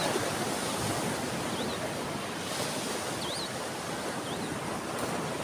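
Sea waves wash steadily onto the shore in the dark before dawn, a constant close roar of surf with light wind and faint bird calls.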